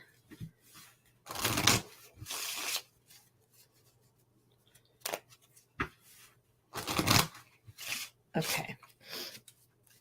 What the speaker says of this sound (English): Let me shuffle a little bit.